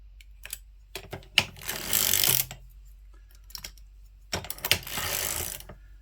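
A vintage circular sock knitting machine clatters along with soft mechanical clicks and ratcheting, two longer bursts of whirring cranking broken by quiet pauses and scattered single ticks.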